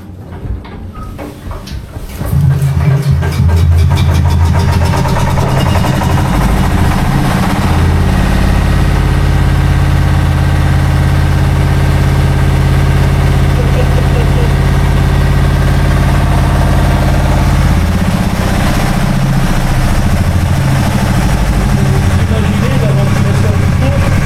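A diesel engine with a manual starter in a Maginot Line casemate, Mont des Bruyères, cranks up and settles into a loud, steady, deep idling rumble that fills the space, with a voice faintly over it.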